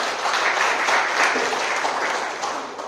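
A crowd applauds continuously, many hands clapping in a dense, steady wash that fades slightly toward the end.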